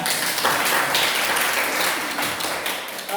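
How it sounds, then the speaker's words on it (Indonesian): Steady applause from a group in a classroom lesson, dense and even throughout, with no talking over it. "tepuk tangan untuk Anda"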